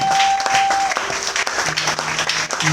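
A church congregation applauding together, with a sustained, dense clapping that fills the room and faint held keyboard notes beneath it.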